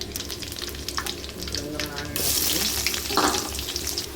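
Onion and curry leaves fry in oil in a pan for a spicy mutton curry, giving a steady close sizzle with light stirring scrapes that swell louder and brighter partway through.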